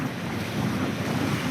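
Strong wind of force 6 to 7 and rough seas batter a sailboat on an Atlantic crossing toward the Antilles, making a steady, loud roar of wind and breaking water with no letup.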